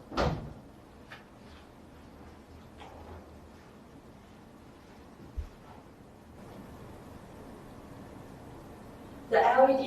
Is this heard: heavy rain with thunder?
no